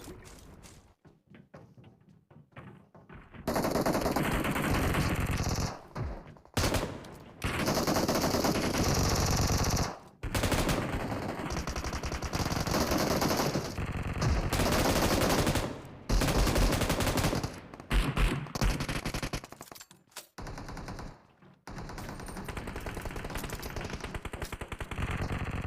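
Sustained bursts of M249 machine gun fire in BGMI, loud, dense rapid volleys broken by short pauses over about twenty seconds, with no talking.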